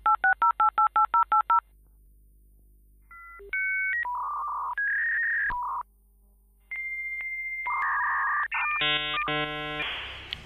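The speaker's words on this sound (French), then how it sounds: "internet qui faisait un bruit bizarre à l'allumage" Dial-up internet modem connecting: a quick burst of touch-tone dialing pulses, then a sequence of steady beeps and tones, ending in harsh, buzzing handshake screeches, clear and fairly close.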